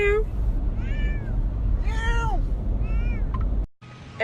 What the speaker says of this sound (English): We'll put the video of the cat in here now.